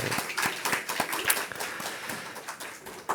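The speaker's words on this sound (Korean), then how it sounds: "한번 박수 한번 이렇게 같이 쳐볼까요?" Scattered clapping from a small church congregation congratulating a member on an upcoming wedding, uneven distinct claps rather than a dense roar, moderately quiet and fading slightly toward the end.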